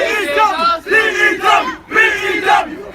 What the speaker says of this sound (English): The crowd are yelling at the top of their lungs.